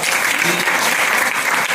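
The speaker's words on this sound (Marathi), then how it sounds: "म्हणून त्यांच्यासाठी पुन्हा एकदा जोरात टाळ्या वाजवा" Loud, dense applause from villagers fills a Kakad Aarti closing ceremony in Rihe village, Mulshi, Pune, a continuous roar of many hands clapping close by.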